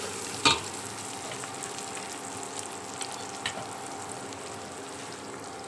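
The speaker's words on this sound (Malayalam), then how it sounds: "നന്നായിട്ടൊന്ന് ഇളക്കി" Vegetable pulao frying in a pan gives a steady close sizzle with one sharp stir or scrape near the start and light clinks after it, and no one speaks.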